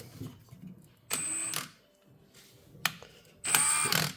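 An impact gun tightens brake bolts on a Ford Escape during a brake job, firing in two loud, close bursts with a brief sharp tool sound between them.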